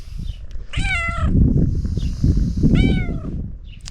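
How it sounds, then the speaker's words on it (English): A cat meows twice, clear and close, over a low rumbling purr-like background. "cat wants to play now."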